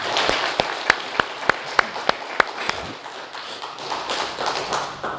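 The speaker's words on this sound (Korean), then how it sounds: "우리 다 같이 인사할 때 다 같이 한번 축하의 박수를 드리겠습니다" A church congregation applauding in congratulation at a welcome for a newly appointed pastor: a run of loud, evenly spaced rhythmic claps near the mic gives way to looser, softer scattered clapping toward the end.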